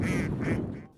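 Farm-raised ducks quack loudly and close by in a short run of repeated, overlapping calls that fade out at the end.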